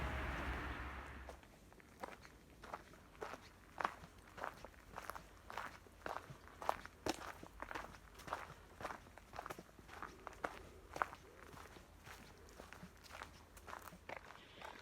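Steady footsteps on the Camino Invierno trail on a misty morning between Rodeiro and Lalin, an even walking rhythm of crisp steps, close and moderately quiet, no talking.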